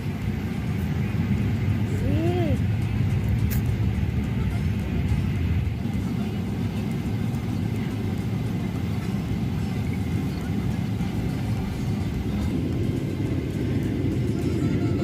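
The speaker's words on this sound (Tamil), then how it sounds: "ஃபாஸ்ட்டாக போகுது. டேக் ஆஃப் ஆகுது." Emirates Airbus A380 on its takeoff roll, heard from inside the cabin: a loud, steady broadband engine roar and rumble that holds level throughout, with a brief rising whine early on.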